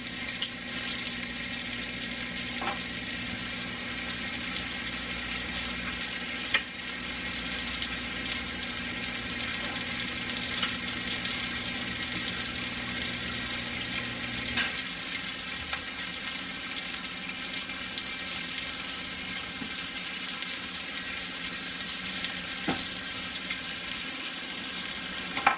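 Garlic sizzles and fries in a pan while being stirred, a steady close crackle with occasional scrapes and clinks, its low hum dropping away partway through, and no voices.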